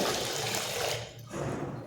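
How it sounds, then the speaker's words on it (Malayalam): Water rushing through a valve into an underwater massage tub, a steady hissing gush that briefly dips midway before resuming, close and fairly loud. "ഈ വാൽവിൽ കൂടെ ഓണാക്കിയിട്ടുണ്ടെങ്കിൽ ഇതിൽ വെള്ളം വരും. ഇങ്ങനെയാണ് വെള്ളം നിറയ്ക്കുന്നത്."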